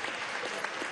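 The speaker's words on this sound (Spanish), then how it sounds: "Un aplauso a la juventud." Applause for young artists at a Venezuelan youth congress, a broad steady clapping from a large audience that fills the whole short moment without a break.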